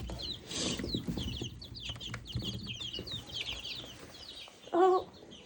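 Chicks cheep and cluck in a quick, overlapping chatter of high chirps close by, with faint rustling and one louder, brief cluck near the end; no one speaks.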